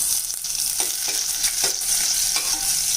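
Mustard seeds splutter and pop in hot oil with cumin and crushed garlic as a South Indian kuzhambu is started. A dense, steady crackling sizzle carries loud and close throughout, with sharper pops scattered across it and no voices.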